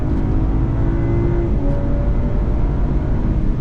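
A BMW M240 accelerates hard out of a corner on the Spa circuit, its engine a loud, steady, close-up drone that holds at full throttle for the whole stretch with no voices.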